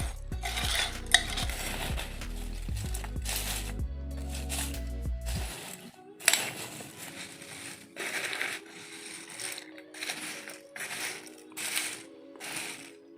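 A spoon stirs honey into boondi, a fried Deepavali sweet, in a bowl, making repeated close scraping and clinking strokes in an uneven rhythm; a low tonal hum runs under the first half.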